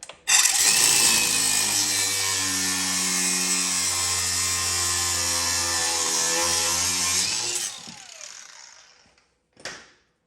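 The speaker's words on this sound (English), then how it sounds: "So I can sneak my cutoff wheel in here, and we're just gonna cut this stud right off." A cutoff wheel grinds through a sway bar end link stud on a 2009-2015 Honda Pilot: a loud, steady high-pitched whine for about seven seconds, then the wheel winds down, followed by a brief final burst.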